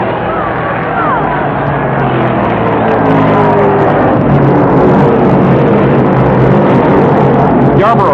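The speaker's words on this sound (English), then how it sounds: "in an unending explosion of sound, the cars rocket under green silk and the World 600 is on" Stock cars roar away from the start of the 1967 World 600 race, a dense, loud engine drone that swells as the field accelerates, with crowd noise and a commentator's voice over it.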